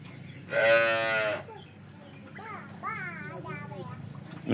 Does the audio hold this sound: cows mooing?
yes